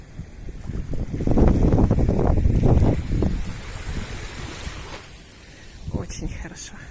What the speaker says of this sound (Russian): Видите, какой ветер.